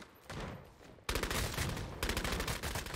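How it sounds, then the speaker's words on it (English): Rapid bursts of gunfire in the vampire battle royale game Bloodhunt, dense repeated shots from about one second onward, loud and close. "One's up here shooting you."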